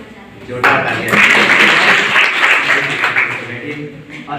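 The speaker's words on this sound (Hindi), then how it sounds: "जोरदार तालियां।" An audience at a Rajyoga meditation training at Kisan Postgraduate College, Sewra, breaks into loud applause that swells after a brief quieter start and holds strong before easing slightly near the end.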